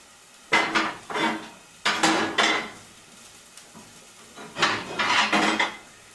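A metal stove cap being lifted and handled on a wood-burning cook stove, with several clanking and scraping metal-on-metal knocks in short clusters, close and fairly loud, separated by quiet pauses.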